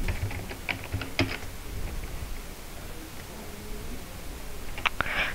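Fast clattering keystrokes on a computer keyboard during a League of Legends game, close and fairly loud, in irregular bursts with brief pauses and a sharper flurry near the end.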